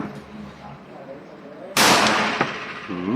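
A single loud gunshot from a Rock Island 1911 A1 .45 pistol with a 5-inch barrel and all-steel frame cracks out at a firing range, followed by a brief echoing tail. Quiet background and faint voices come before it.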